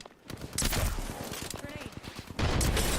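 Gunfire in Apex Legends, a rapid run of sharp repeated shots, then a louder burst near the end, heard under a voice talking.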